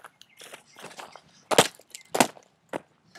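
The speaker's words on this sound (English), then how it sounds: "I'm gonna be taking our big background rock And dropping it." A big background rock is dropped onto airsoft targets, landing in a few sharp, loud crashing impacts spaced about half a second apart, preceded by softer shuffling and handling noises.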